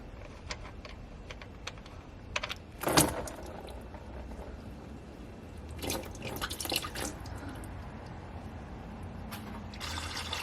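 Transmission fluid drains from a Ford Ranger 6-speed manual gearbox, a quiet, steady patter of drips and trickling liquid with a few louder splashes, close by and without speech.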